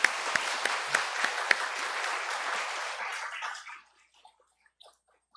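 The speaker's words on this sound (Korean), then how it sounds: "우리 이번 기회에 찬양팀들과 오케스트라 팀에게도 박수를 한번 보냅시다." Congregation applauding a church worship team and orchestra, a dense wash of clapping with a few sharp claps standing out, holding steady for about three and a half seconds, then trailing off into near silence.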